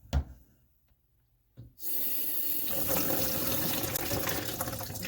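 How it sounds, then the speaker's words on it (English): Water from a sink tap gushes steadily into a clogged drain, starting after a short quiet knock and then holding a loud, continuous splashing rush close by. "So I'm going to turn the water on"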